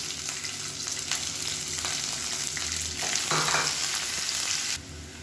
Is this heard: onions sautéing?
yes